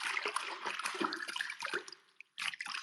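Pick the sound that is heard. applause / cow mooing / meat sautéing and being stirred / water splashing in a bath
water splashing in a bath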